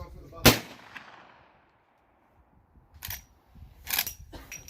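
A Rossi 92 lever-action rifle in .44 Magnum fires at a public outdoor range, with one loud close sharp shot and a long fading echo, followed by two more distant shots.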